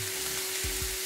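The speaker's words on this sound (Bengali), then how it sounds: "এখন আমি পেঁয়াজ রসুন মরিচ সব কিছুকে সামান্য তেল দিয়ে টেনে বসিয়ে দিয়েছি" Onion, garlic and chili fry in a little oil with a steady close sizzle, joined by a couple of soft stirring scrapes near the end, with no voices.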